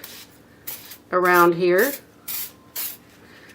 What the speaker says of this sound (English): The silicone actually comes in a spray, so we'll try just a little bit of a whisk